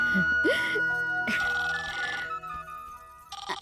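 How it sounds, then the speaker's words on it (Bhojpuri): A telephone rings with a steady electronic tone in a scene from a Bhojpuri film, sounding under voices and other background sound for a few seconds. "तनी फोन देखी था"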